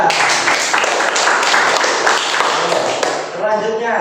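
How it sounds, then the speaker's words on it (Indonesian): Applause and clapping for group 3 in a classroom teaching session, a steady burst of many hands close by with voices over it, tapering off near the end. "Beri aplaus untuk kelompok 3."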